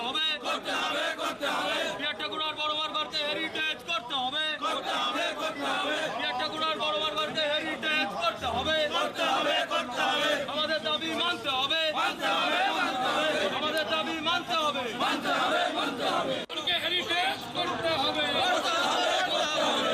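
Matua devotees shout slogans at a protest in front of Binapani Devi's house in Thakurnagar; a dense, loud crowd of voices chanting and yelling continuously throughout.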